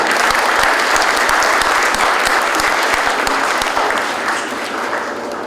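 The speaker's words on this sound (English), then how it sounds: "to give yourselves a round of applause" An awards-ceremony audience applauds itself in a loud, dense wash of clapping that holds steady, then eases slightly toward the end, with no voices over it.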